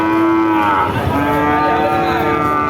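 Cattle lowing at a livestock market on a winter morning, a single loud, close, drawn-out moo that carries on for nearly three seconds with rough harmonics.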